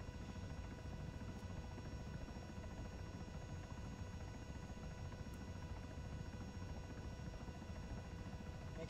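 A CH-67 Huron helicopter flies in the video game ARMA 3, a constant low droning rotor and engine buzz that stays steady and fairly quiet throughout with no talking.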